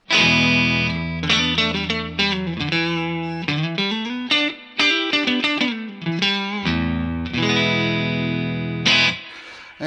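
Clean electric guitar through a Cachalote Console Preamp pedal, a Silver Sky into a Two Rock custom reverb amp, playing sustained chords and melodic phrases, loud and alone with a light effects sheen.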